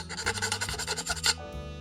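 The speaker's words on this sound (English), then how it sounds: "I don't want to get too crazy with my sanding." Rhythmic rasping strokes of hand-sanding wood scrape back and forth about a dozen times, close and fairly loud, then stop, leaving a low hum.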